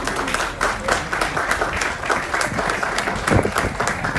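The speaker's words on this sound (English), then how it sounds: "Please give a round of applause to the Panamanian." Round of audience applause for the Panamanian Jewish community at a talk, steady rhythmic clapping from a crowd, fairly loud and close throughout, with slight surges near the end.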